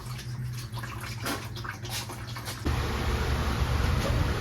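Water gushes out of a 1966 car's radiator during a flush, a steady trickle that turns into a louder, fuller rushing pour partway through and keeps going to the end.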